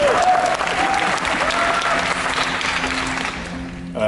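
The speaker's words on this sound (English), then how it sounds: "you can applaud for that" Conference audience breaks into loud, sustained applause that fills the hall, with a voice briefly audible over it early on, easing slightly toward the end before stopping abruptly.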